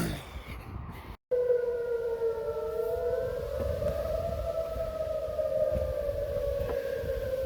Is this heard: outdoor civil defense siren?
yes